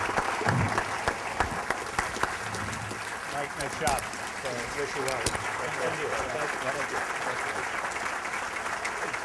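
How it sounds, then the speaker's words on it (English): A crowd applauds two speakers at the close of an event: sustained, even clapping that fills the room while voices talk over it. "Please give them a great round of applause, would you?"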